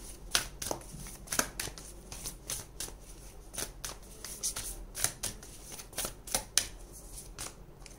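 Tarot cards shuffled and handled in a quiet room, a rapid series of crisp riffling and flicking bursts, close and fairly soft, with no voices.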